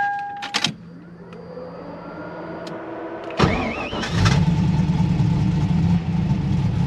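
An LS-swapped Lexus IS300 cranks and fires at mid-clip, settling into a steady, loud idle close by, preceded by a power window whirring and brief clicks.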